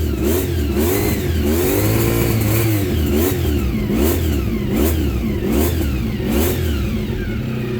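A Honda CBR400RR motorcycle engine revs hard and loud, its pitch climbing and dropping in repeated surges over a steady rumbling idle, close by.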